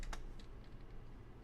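Quiet, steady typing on a computer keyboard, a few sharper keystrokes standing out over a low background hum, heard close and alone.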